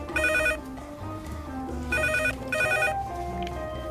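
A telephone rings in short repeated electronic trills, two clear bursts with a pause between, moderately loud over a dense background of music and other sound.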